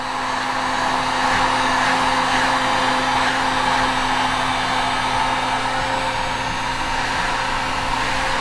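A heat gun blows hot air onto a plastic kayak surface, giving a loud, steady whirring rush with a constant motor whine that never changes across the whole stretch.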